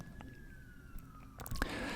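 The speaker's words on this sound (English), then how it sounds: "I had to wait for the siren to pass." A distant siren from a passing emergency vehicle holds a faint, slowly falling wail under low background noise, with a few muffled knocks near the end.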